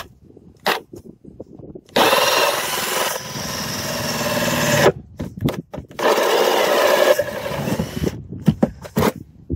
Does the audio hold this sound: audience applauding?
no